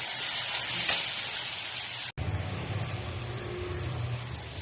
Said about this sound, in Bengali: এবার একটু ভালো করে একটু কষে নিচ্ছি।